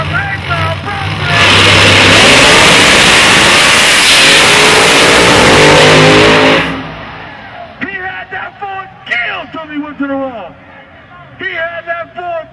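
Ford and Chevrolet drag race cars rev and launch at a grudge race, a loud, full engine roar sustained for several seconds before cutting away to someone talking excitedly.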